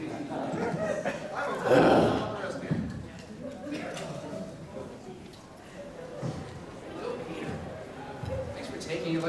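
A man in a lively convention panel crowd barks aloud, imitating a dog with a few short yelps, amid chatter and audience noise.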